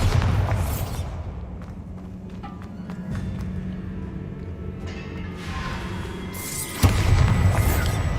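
Bombarda blasting spell in Hogwarts Legacy, set inside a tomb, going off as a heavy boom near the end after a stretch of scattered thumps and rumbling ambience.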